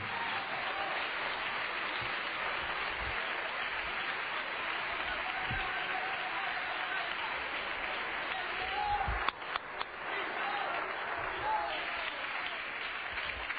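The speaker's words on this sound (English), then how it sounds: "Clap your hands to the Lord and let Him know we're going to worship Him in the Word tonight" A church congregation claps hands together in worship, producing a steady, dense wash of applause that holds throughout with a few sharper individual claps near the end.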